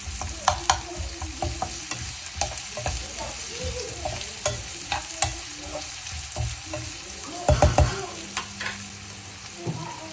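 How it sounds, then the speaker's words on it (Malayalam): A large onion sizzles in hot oil for a tuna fish curry, with steady frying crackle broken by repeated scraping stirs and clanks of a spoon against the pan, close and fairly loud, no talk. "ഒരു വലിയ സവാളയും കൂടെ ഇട്ടിട്ട് നല്ലോണം ഒന്ന് മൂപ്പിച്ചെടുക്കുക കേട്ടോ എണ്ണയിലിട്ട്"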